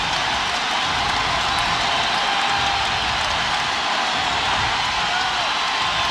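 Arena crowd at the 2003 NBA Finals Game 6, Nets at Spurs in San Antonio, cheering after Bruce Bowen's three-pointer, a steady loud roar of many voices held evenly throughout.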